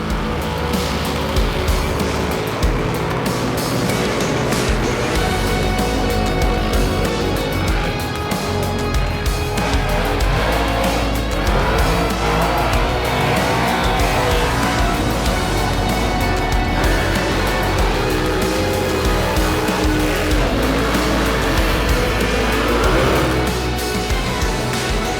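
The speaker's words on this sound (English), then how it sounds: "Next up on the Burnouts is a Toyota Soar. I don't think I've ever seen one of these drop a skid" A Toyota Soarer doing a burnout at Summernats: a loud, continuous engine roar at sustained high revs, with a dense, gritty wash of tyre noise throughout.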